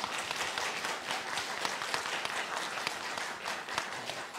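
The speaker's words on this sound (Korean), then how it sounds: "우리 이제 목사님 나오실 때에 우리 큰 박수로 환영하도록 하겠습니다" Church congregation applauding to welcome a guest pastor to the pulpit, a dense, even burst of many hands clapping at once, moderately distant and sustained.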